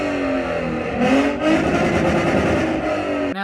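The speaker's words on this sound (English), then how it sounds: "compared to an exhaust note that sounds like this" A V6 Ford Mustang revs through its exhaust, a loud, raspy engine note that swells and holds as the throttle opens, heard close and alone.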